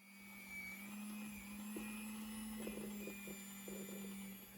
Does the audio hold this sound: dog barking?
no